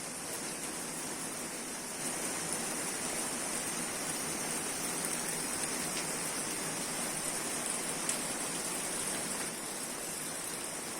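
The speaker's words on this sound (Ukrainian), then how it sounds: "І ось нарешті сьогодні, прямо зранку, у нас пішов дощ." Steady, soft hiss of rain falling outdoors, continuous and fairly faint throughout, with no voices.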